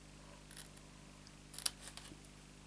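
Scissors make a small miter cut in card for a chocolate pull-up box, a few quiet, close snips clustered together over a faint background hum.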